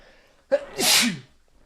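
One sharp, close sneeze from a person, a quick inhale catch followed by a loud burst, alone against quiet room tone.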